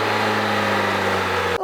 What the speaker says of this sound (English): Now when you hear this kind of a noise, it's valve train noise.